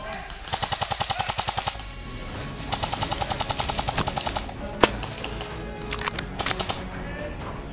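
Airsoft gun fire during an outdoor skirmish game around a building: two long rapid bursts of clicky automatic shots, then scattered single cracks and short bursts, fairly close with background noise.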